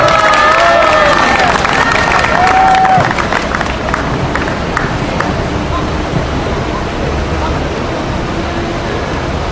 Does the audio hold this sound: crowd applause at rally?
yes